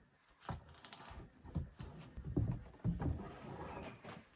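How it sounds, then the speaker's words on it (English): A knife slices a pumpkin into segments, giving a few close, crunchy cuts and soft thuds at irregular intervals, fairly quiet with no voices. "I'm gonna cut it into the segments of the pumpkin."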